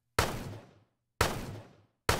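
Video game gunshot sound effect played back as a sample, three identical sharp bangs each with a decaying tail, evenly spaced about a second apart, loud and alone.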